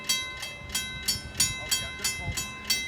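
Train on the line at Pefferlaw Road level crossing in Pefferlaw, with regular rhythmic clacking bursts roughly every third of a second, moderately loud and drawing nearer, over faint background noise.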